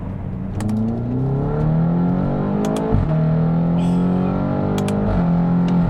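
A 2016 BMW X5M with a 567 hp engine and ZF automatic transmission pulls hard, its engine note rising then dropping sharply twice as the gearbox snaps through quick upshifts, loud and sustained from inside the car.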